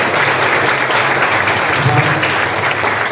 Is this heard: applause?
yes